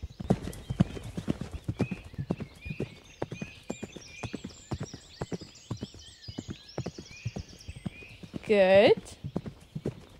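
Bareback horse at a sitting trot, hooves clip-clopping in a steady close rhythm with one brief whinny near the end, while a rider's voice speaks over the hoofbeats.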